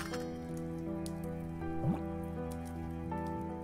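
Tea leaves dropped into hot water in the video game Children of Silentown give a single soft, wet plop, faint against a quiet, sustained musical background.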